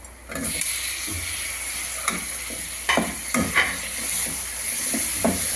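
Chopped tomatoes go into prawn roast masala frying in a pan, with a steady sizzle and hiss broken by a few soft clatters and stirring knocks.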